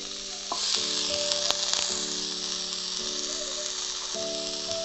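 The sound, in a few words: pumpkin and tomato slices sizzling on a Concord open sandwich griller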